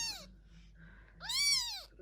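A kitten gives two clear meows, a short one at the start and a longer, louder rising-and-falling cry a second later, close by and without talk, with a faint low murmur between them.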